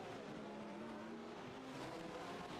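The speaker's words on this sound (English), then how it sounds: "Let's watch our GT3s coming into shot here, running down towards the big braking zone of turn 1" GT3 race cars brake hard into the turn 1 braking zone, a steady loud engine drone with a pitch that sweeps and shifts throughout, no talking over it.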